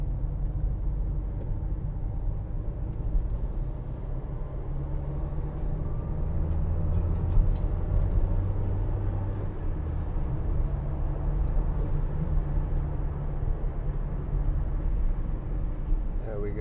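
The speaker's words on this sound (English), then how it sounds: "Just show you how well these vans steer around this roundabout." A 2016 Vauxhall Vivaro 1.6 CDTi ecoFLEX van drives around a roundabout, its engine and road noise a steady low rumble heard from inside the cab as someone talks throughout.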